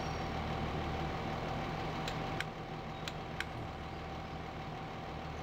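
A tractor in Farming Simulator 15 idles steadily with a constant low engine drone, joined by a few faint clicks partway through and no talk over it.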